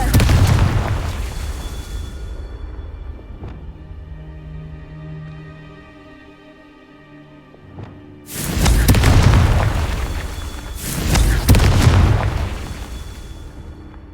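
Loud spell blasts from Confringo casts in Hogwarts Legacy, two heavy booming bursts in the second half after a quieter stretch, each with a broad roaring crash that decays slowly.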